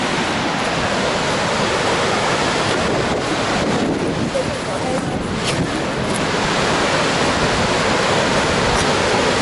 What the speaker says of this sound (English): So this is the Dettifoss Falls